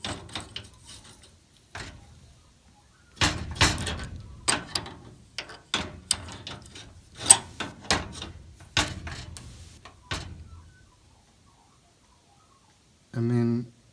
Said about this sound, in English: I'm going to tighten it up with a wrench